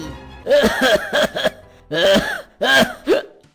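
A cartoon character coughs in a string of harsh, voiced bursts, two clustered fits with a short pause between, loud and close.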